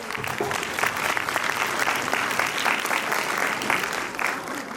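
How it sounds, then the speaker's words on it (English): Audience applause at a school senior annual function, a steady, full round of clapping from a large crowd that stays even and fairly loud for the whole stretch. "A round of applause, please."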